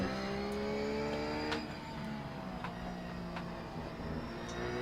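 GT3 race car engines in the iRacing sim at Brands Hatch GP, a continuous loud engine drone with shifting revs and a faint tire squeal over steady background noise.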